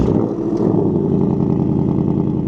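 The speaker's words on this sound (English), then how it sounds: "You got that nice V8 rumble" A 2026 Ford Mustang GT Premium V8, remote-started, idles close by with a deep, steady rumble, a low throbbing burble that holds even with no voices over it.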